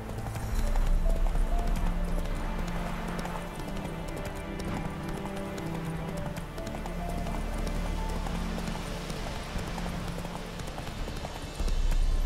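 A horse gallops in The Witcher 3 video game, with steady rhythmic hoofbeats over a dense ambient background of rain-like texture, and no talk.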